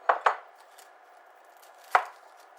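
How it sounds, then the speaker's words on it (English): An onion being cut on a board for smash cheeseburgers: two quick knife chops close together, a pause, then one more sharp chop, crisp and near with no talk. "Just go and peel and cut our onion real quick."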